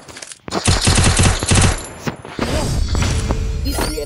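Bursts of rapid automatic gunfire in the Free Fire battle royale game, loud and close, with a short sharp shot and a steady rattle of fire toward the end and no talking.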